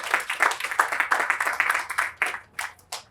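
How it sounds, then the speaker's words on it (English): A small gathering claps at an outdoor playground groundbreaking ceremony in Rochester Hills, Michigan, with scattered close handclaps that thin out into a few separate claps toward the end. "So give yourselves a round of applause for being here today."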